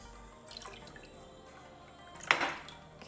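Water dripping and splashing while a homemade skin scrub is rinsed off at a sink, with faint trickling followed by one brief louder splash near the end.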